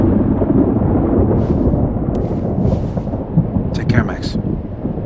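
Thunderstorm in the video game Life Is Strange: Double Exposure: a loud, steady roar of rain and low rumbling thunder fills the whole stretch, with a few brief sharper effects layered on top.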